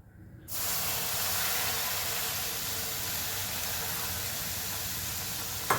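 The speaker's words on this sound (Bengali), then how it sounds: "গ্যাসের ফ্লেমটাকে এবারে একদম লোতে করে আমি দিয়ে দিচ্ছি এখানে এক কাপ দুধ" Milk poured into hot semolina in a pan on a low gas flame for Dudh Gokul pitha gives a sudden, loud, steady hiss and sizzle that holds for several seconds after starting abruptly.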